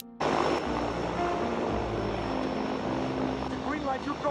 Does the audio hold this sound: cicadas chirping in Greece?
no